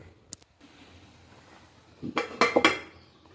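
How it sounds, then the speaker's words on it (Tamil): A metal lid clatters onto a pot of simmering sundaikai vatha kuzhambu with a couple of quick clanks, following a faint earlier tap in an otherwise quiet kitchen. "ஒரு மூடி போட்டு மூடி வச்சு"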